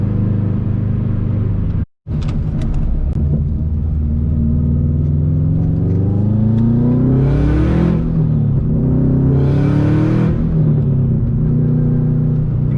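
A modified 2005 Subaru WRX STi engine revs up and down repeatedly, loud and close, with rising and falling pitch sweeps over a constant rumble.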